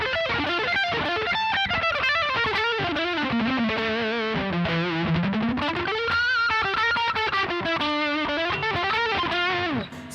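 Heavily distorted electric guitar through a Blue Monster metal distortion pedal, played on the bridge pickup, a continuous, sustained riff with shifting pitch, loud and saturated, no voices.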